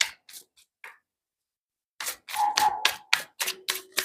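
Tarot cards are shuffled and handled close up, producing quick papery flicks and taps in short clusters with a pause between bursts.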